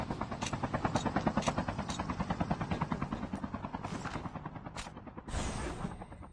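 A helicopter in the mobile battle royale game Call of Duty Mobile beats with a steady, rapid rotor thump, close and loud throughout, with a few sharp bursts cutting through near the end.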